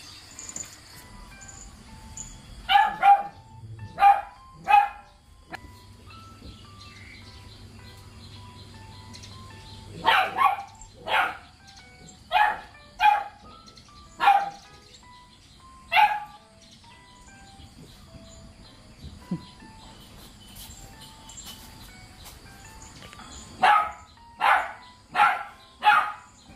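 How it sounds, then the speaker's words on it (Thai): A dog barks in several short bursts of two to four barks separated by quiet gaps, fairly close, with faint bird chirps in the background. "ไปเห่าอะไรน่ะ"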